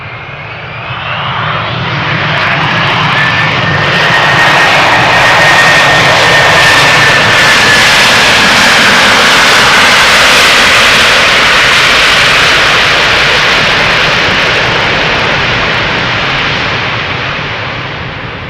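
A jet airliner roars past at Schiphol Airport, swelling from a distant rumble to a loud, close, sustained engine roar with a whining tone on top, then slowly easing away, no voices over it.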